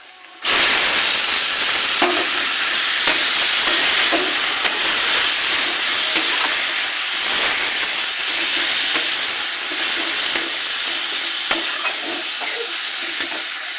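Leafy greens drop into a hot pan and hiss loudly at once, keeping up a dense, steady, steamy sizzle with occasional stirring taps throughout.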